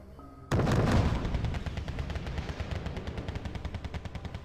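A machine gun in ArmA opens up suddenly and fires a long, rapid burst of evenly spaced shots, loud and close, fading slightly as it continues, with no speech.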